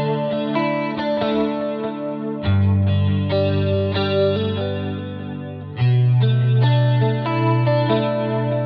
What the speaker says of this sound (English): So I'm gonna play some chorus stuff.